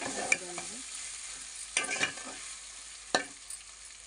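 Biryani ingredients being stirred in a frying pan with spice powder, a low sizzle beneath a few scraping strokes of a spoon against the pan, close and fairly quiet.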